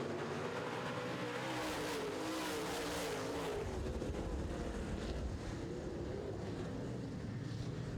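Big FM Modified race cars roar around an oval track in a main-event feature, a dense continuous engine drone with wind buffeting the microphone and no clear breaks.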